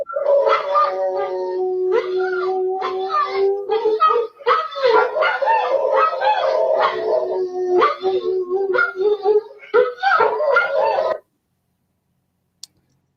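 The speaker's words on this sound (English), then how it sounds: "that was not either one of those two dogs that was doing that big howl" A big animal howls at night outdoors during a Halloween ghost-hunting session, a long, loud, wavering howl with yips, sustained for about eleven seconds and then cutting to silence.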